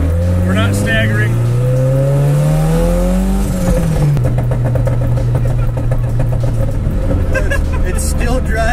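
A car with a swapped engine, fitted with wider Diamond Racing wheels, drives with a loud, continuous engine roar. The revs climb steadily, drop abruptly, then settle into a rough, sustained drone.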